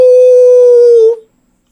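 A voice imitates a single dog bark, a sustained loud "au" held for about a second before cutting off, alone with no other sound behind it.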